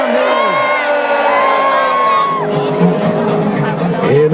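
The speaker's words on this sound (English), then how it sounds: "Cheer now and send them back downhill." A large crowd of spectators at a Battle of Hastings 950th anniversary reenactment cheers and whoops for the English side, a loud, sustained roar of many voices with shouts rising and falling throughout.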